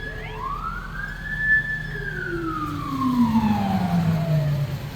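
A police car siren wails loud and close, one long rising-and-falling sweep that drops in pitch as the vehicle moves away, over steady traffic noise.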